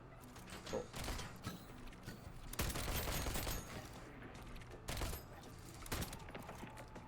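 Weapon gunfire in a video game, several loud bursts of shots with a few separate heavy blasts over a busy game background.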